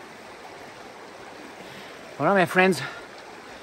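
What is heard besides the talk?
small stream flowing by Poenari Fortress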